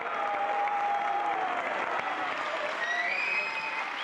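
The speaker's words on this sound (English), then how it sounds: "and then the bronze medal, and a huge cheer, no doubt" Crowd applause and cheering at a medal ceremony during the FIA Motorsport Games, a dense, steady roar of clapping and voices lasting throughout without a break.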